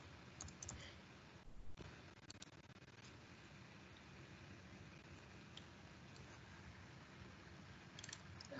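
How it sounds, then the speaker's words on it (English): Soft, quick keyboard clicks of typing on a computer sound faintly and intermittently over a steady background hum. "Here I'm just typing for demo purposes."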